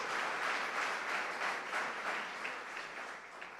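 A church audience claps for the Lord in a brief, steady burst of applause, dense and fairly distant, with a soft swell in the middle and no clear voices over it.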